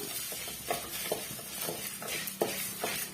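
Dried red chillies dry-roasted and stirred in a pan for a drumstick-leaf stir-fry, giving a steady close sizzle with repeated scraping stir strokes roughly every half second, no voices.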